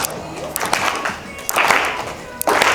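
Bursts of audience clapping at a Toastmasters speech come in waves, swelling and fading, with voices mixed in among the crowd noise.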